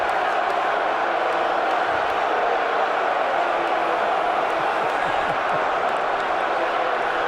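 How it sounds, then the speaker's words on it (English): Large crowd at the NFL Draft booing, a loud sustained roar of many voices holding steady for the whole stretch with no breaks. "I never understand why they keep booing this man."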